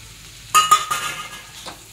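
Fresh coriander hits a hot pan of green peas for a spicy thecha, bringing a sudden burst of sizzle with a few sharp crackles that fade to a steady low hiss.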